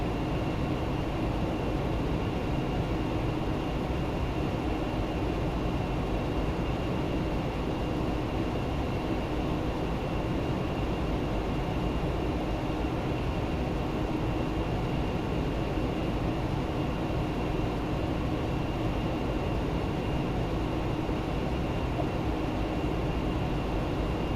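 Embraer ERJ-145 airliner engines in the X-Plane 12 flight simulator, on approach to runway 10: a steady, unbroken broadband jet drone with a faint high whine, no voices.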